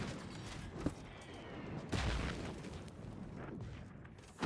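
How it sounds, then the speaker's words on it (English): Mortar fire in a combat video game played on very hard difficulty: a sharp crack, then a heavy, loud blast with a rumbling tail, set against a steady bed of distant gunfire and ending on another sudden burst. "Fuck, mortar fire!"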